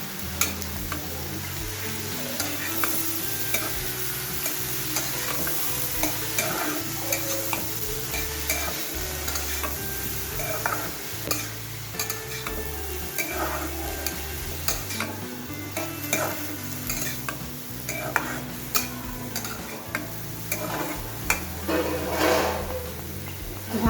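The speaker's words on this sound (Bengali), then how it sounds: "ভালোভাবে নেড়ে চেড়ে মিশিয়ে নিলাম" Gourd peel frying with turmeric powder in a pan, a steady sizzle under repeated scraping and stirring strokes that clatter at an irregular rhythm throughout, close and moderately loud.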